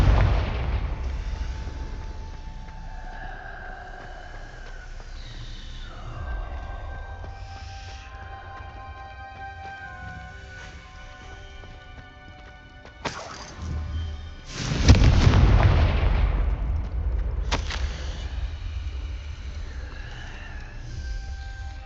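Confringo blasting spells explode in Hogwarts Legacy gameplay, low rumbling magic ambience building to a few sharp blasts, the loudest bursting heavily mid-clip, then echoing debris and fading reverberation.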